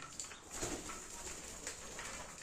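Pigeons in a home flock of about twenty-six birds coo softly at a distance, with low repeated calls over a faint, steady background and no voices.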